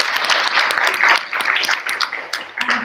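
Applause breaks out among delegates in a general assembly at a veterinary students' symposium, a moderately loud, uneven patter of many hands clapping that rises and dips over a few seconds.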